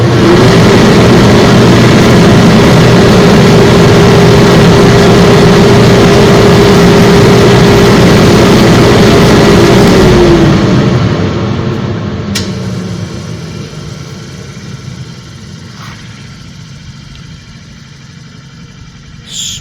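A Harbor Freight 2 hp dust collector runs loud and steady with a motor hum and broad airflow roar, then is switched off around ten seconds and winds down gradually into quiet.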